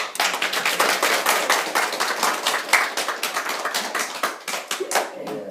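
A church congregation claps in thanks during a sermon at a Korean church in Washington. Loud, rapid clapping from many hands holds a strong, roughly steady beat and stays close and full throughout.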